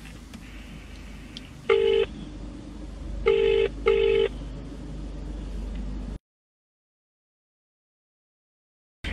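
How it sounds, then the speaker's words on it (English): A telephone number is dialed with touch tones: three loud, clear beeps, the last two close together, over steady background hum, followed by abrupt silence. "I'm going to phone about this one now"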